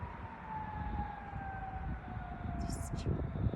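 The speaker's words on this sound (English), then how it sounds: "Sorry, there's some sirens going on, but hopefully you can still hear me." Distant emergency sirens wail outdoors near a cemetery, a faint drawn-out falling tone over wind and low background rumble.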